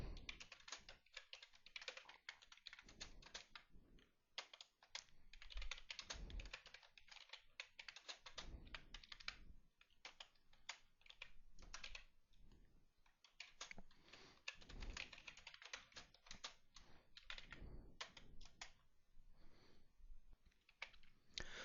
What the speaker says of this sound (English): Let me type a couple more lines of code.